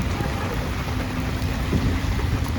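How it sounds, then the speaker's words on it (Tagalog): Steady rain pours down outdoors in a hot region where rain is rare, a dense continuous hiss with faint low rumbling, loud and close throughout with no voices. "Ulan na yan."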